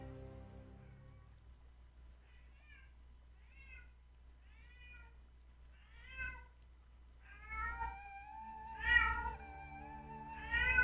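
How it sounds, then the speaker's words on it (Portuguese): A pet cat meows repeatedly, apparently by a door it wants opened: a series of short calls that grow longer and louder toward the end, heard alone in a quiet room. "O gatinho tá respondendo por ele."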